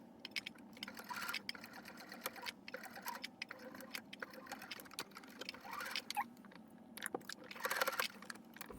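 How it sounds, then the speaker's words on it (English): A sewing machine stitches across a teddy bear ear in quick, uneven bursts of close, quiet mechanical clatter, with brief pauses between runs. "I'm just going to sew on top of this and going to leave opening from the bottom."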